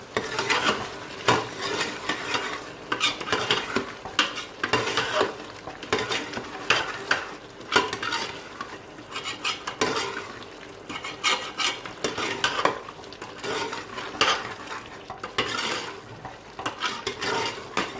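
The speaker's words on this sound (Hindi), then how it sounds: "अब ये हम इसके अंदर 1 टीस्पून पिसा गरम मसाला डाल रहे हैं और इसके बाद फिर हम भुनाई करेंगे" Goat liver masala with ground garam masala is stir-fried in a pan, with constant scraping and clinking of a spoon against metal over a steady sizzle, busy and close for the whole stretch.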